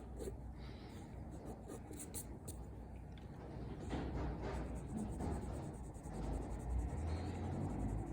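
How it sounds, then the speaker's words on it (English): A 6B graphite pencil sketching hair on paper with light pressure gives a soft, steady scratching and rubbing that runs throughout, moderately close, with no voices. "Back to the 6B pencil."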